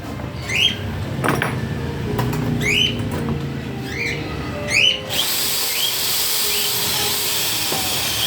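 A cordless drill drives screws into an aluminum cabinet, with repeated short whirring bursts that rise in pitch, followed by a steady hiss near the end.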